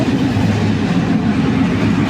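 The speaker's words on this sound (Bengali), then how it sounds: "ট্রেনটা ছাড়ছে" The Dhumketu Express pulls away. Heard from inside a carriage, it gives a steady, close rumble of wheels and rail clatter that is loud and unbroken.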